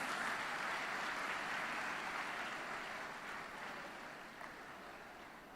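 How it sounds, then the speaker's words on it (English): An audience at the R.I.D.E. 2024 research and entrepreneurship event claps for its panelists, a soft, distant wash of applause that slowly fades. "Can we have a huge round of applause for these wonderful personalities?"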